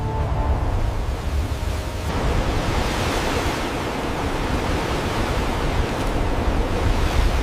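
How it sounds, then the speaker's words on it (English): Sea waves wash steadily below a fortress wall at night, a broad continuous rush of surf with wind-like hiss, fairly loud and unbroken throughout, with no voices. "heard the waves below"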